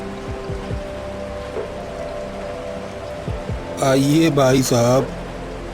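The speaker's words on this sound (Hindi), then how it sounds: "बारिश बहुत तेज है" Heavy rain pours down in a steady, dense hiss outside a village doctor's clinic, continuing beneath a voice as he calls someone inside.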